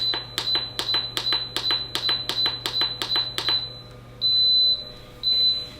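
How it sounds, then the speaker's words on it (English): About ten quick electronic beeps from an Instant Pot pressure cooker in a steady rhythm, then two longer sustained tones, fairly loud over a low constant hum. "When you hear it beep, that means it's starting to pressurize."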